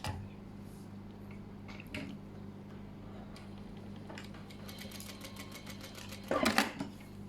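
An overlock sewing machine sews and trims a garment's sleeve cuff, a faint rapid ticking that builds into a short louder mechanical burst near the end, heard alone without speech.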